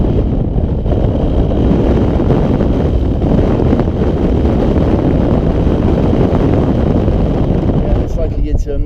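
A strong headwind roars across the microphone while cycling on an open road, a dense, continuous rush of buffeting noise that stays loud and unbroken throughout.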